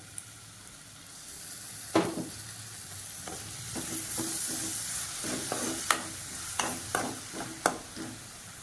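Ground tomato paste sizzling and frying with onions in a pan, a steady hiss broken by repeated sharp scrapes and stirs of a utensil, close by with no talking.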